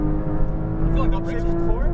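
A Porsche Cayman GTS engine howls steadily at full throttle on a racetrack, a loud sustained tonal drone heard from inside the car while a driving instructor talks over it.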